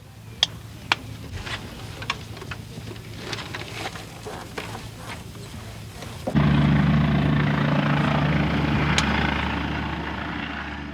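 An attack helicopter's rotor thrum and engine drone suddenly swell loud and close, a steady low roar that fades slightly toward the end, with faint clicks before.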